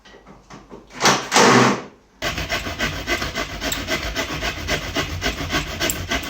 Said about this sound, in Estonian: kuidas mul sõber käis kell 10 öösel siin saagimas